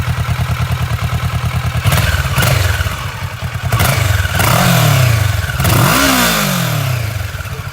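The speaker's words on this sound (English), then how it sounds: "So here's the stock exhaust." A 2016 Kawasaki Versys 650 on its stock exhaust idles with a close, loud, pulsing throb, then is revved several times, each rev rising and falling back to idle, with no talking.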